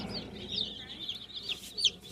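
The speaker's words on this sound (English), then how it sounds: "they got these little chickens in here, and they're just cute as can be." Baby chicks at a feed store in Indio, California, peeping in high, rapid, overlapping chirps close by, continuous and fairly busy, with no talk over them.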